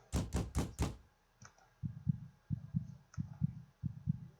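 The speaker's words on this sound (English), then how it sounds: "Someone's knocking from the top of the stairs" Knocking comes from the top of a flight of stairs: four quick, loud, sharp knocks, then a pause and a run of softer, dull, evenly spaced thumps.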